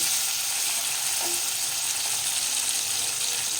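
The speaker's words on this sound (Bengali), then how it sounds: "পেঁয়াজটা ভালো করে ভেজে নেব।" Chopped onions fry in a pan for a jackfruit kofta curry, giving a steady, even hiss of sizzling oil that holds at the same level throughout with no voices.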